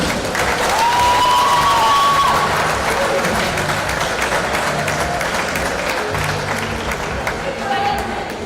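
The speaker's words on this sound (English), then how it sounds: "One more big applause for national team of Great Britain." A big arena crowd applauds and cheers the Great Britain women's wheelchair basketball team at the European Championship final medal ceremony, a dense, steady roar of clapping lasting throughout, with a faint whistle-like tone early on.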